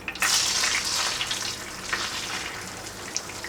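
Fine semolina roasting in half a bowl of melted ghee in a pan over low heat for karanji, giving a steady close sizzle with soft stirring scrapes, loudest at the start.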